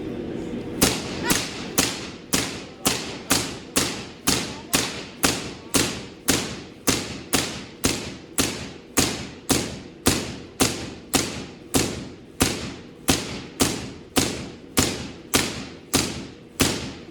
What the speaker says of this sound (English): all I have to do is add charge and we can get lightning